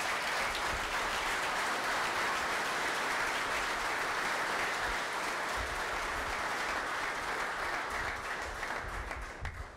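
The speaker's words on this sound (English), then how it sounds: "I'd like to give a big round of applause to Jonathan Tate" Sustained applause fills a gym during a firefighter memorial dedication, many hands clapping steadily and evenly for nearly ten seconds before easing slightly at the end.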